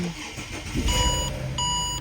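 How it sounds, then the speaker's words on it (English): A Ford BA Falcon is keyed on and its engine starts, with a couple of electronic dashboard beeps over a short cranking whir that settles into a steady close idle. "So I'll turn the key on. There's our oil light is on. Start the engine"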